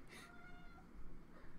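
A cat gives a single short, faint meow close by, followed by quiet room noise.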